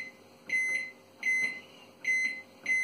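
A Russell Hobbs RHM1714B microwave oven gives four evenly spaced electronic beeps as its start button is pressed repeatedly, each beep followed by a faint low hum, with no talking.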